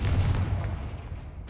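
A Confringo blasting spell bursts in Hogwarts Legacy, a heavy low boom right at the start whose rumble rolls on and slowly fades over about a second and a half.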